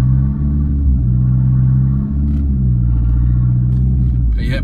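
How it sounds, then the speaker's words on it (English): A Fiat Punto GT with no brake fluid drives along, its engine a loud, close, steady rumble with slight dips, and a brief clatter just at the end. "The car's alive. It drives."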